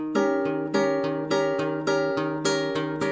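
A ringing guitar barre chord strummed repeatedly in a steady rhythm, alternating low and high strokes, each left to sustain fully without muting.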